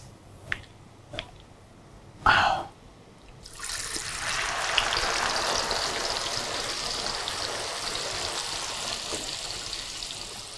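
A few sharp clicks and a brief clatter, then chana dal hits hot oil and breaks into a loud, continuous bubbling sizzle that holds steady to the end.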